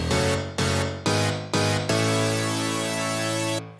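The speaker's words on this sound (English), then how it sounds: "This is how this little chord pattern sounds on its own" A short electronic chord pattern plays on its own, with four clipped stabs landing in a steady rhythm before one long sustained chord rings out. The chords are loud and close, with no voices.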